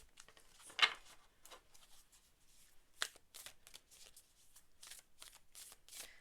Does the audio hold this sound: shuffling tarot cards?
yes